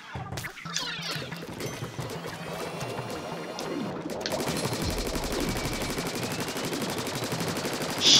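Rapid ink weapon fire in the Splatoon 3 video game rattles out in dense bursts, building into a continuous, loud, fast stream of splattering shots with gurgling, liquid tones.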